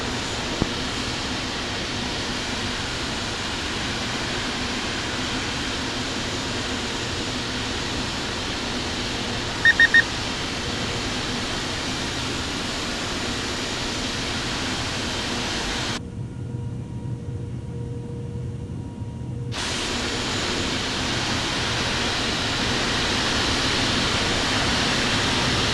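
Steady, droning jet engine roar of a simulated Starlux Airbus A330-900 taxiing at Taipei Taoyuan in the Infinite Flight simulator, continuous and fairly loud, briefly muffled for a few seconds before returning and swelling slightly toward the end.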